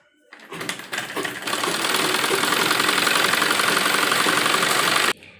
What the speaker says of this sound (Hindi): हम इस पर स्टिचिंग करेंगे।